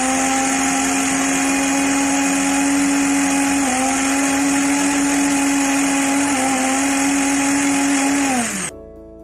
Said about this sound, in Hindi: उसके बाद हमें इसको ग्राइंडर में ऐड कर देना है और इसको अच्छे से हम ग्राइंड कर लेंगे।